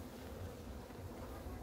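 Honey bees buzzing around hive frames at an apiary in November; a soft, continuous hum of many bees, faint and steady, with no voices.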